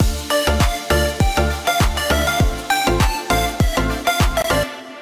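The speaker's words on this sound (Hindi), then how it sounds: "एक तो ये वायलिन वाला साउंड है" The second drop of a tropical house track made in FL Studio, with a Bollywood feel, plays as a loud, steady groove. Punchy kick thumps fall on an even beat under a violin-like lead and added percussion, with no voices.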